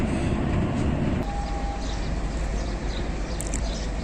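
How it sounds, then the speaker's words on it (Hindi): Pakistan Railways' Hazara Express pulls out of platform 5 at Rawalpindi bound for Karachi, a dense, steady rumble of rolling wheels and carriages filling the scene close by, with faint chirps and a brief tonal squeal above it. "हज़ारा एक्सप्रेस रावलपिंडी से रवाना हो रही है कराची के लिए, प्लेटफार्म नंबर 5 से"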